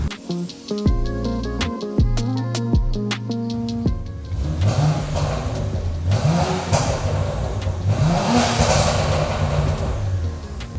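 A BMW 335xi engine idles through a two-muffler exhaust with a throaty, rumbling note that rises and falls in short revs, loud and close, with no talking.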